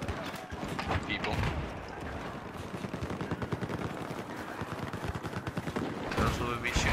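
Rapid bursts of video game gunfire crackle through a multiplayer match, dense and continuous with clustered volleys, while players talk over the shooting.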